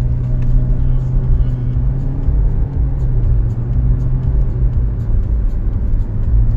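A car drives along with a steady, loud engine drone and road rumble from inside the cabin. The tone stays fairly constant, with no distinct revving.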